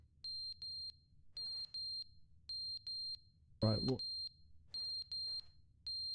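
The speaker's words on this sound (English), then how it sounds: "The alarm's going." A repeating electronic alarm from the video game The Stanley Parable beeps in paired high-pitched bursts at a steady rhythm throughout, with a brief burst of loud speech in the middle.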